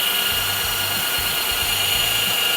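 A rotary polisher spins at speed 3, cutting through repainted paint on a Volkswagen Tiguan, a loud, steady high-pitched whine with a low rumble, close up and unbroken, with no voices.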